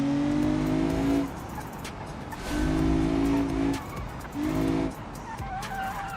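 Car braking hard in the BeamNG driving game, three sharp bursts of tire squeal each lasting about a second, separated by engine and road noise, with some talk faint underneath.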